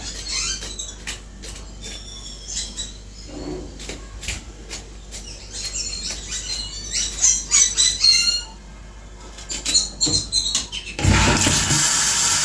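Birds squawk and screech repeatedly in loud, overlapping bursts, with a harsher burst of noise near the end.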